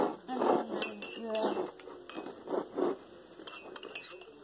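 Homemade slime is stirred in a bowl with a utensil that clinks repeatedly against the sides in irregular bursts, while a voice talks quietly underneath.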